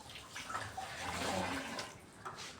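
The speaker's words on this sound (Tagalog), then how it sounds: "Naglilimas ako ng tubig" Water being bailed out of a floor area before tiling, a steady sloshing and splashing wash of water that continues throughout, fairly faint, with no clear speech over it.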